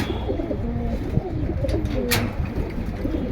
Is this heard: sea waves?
no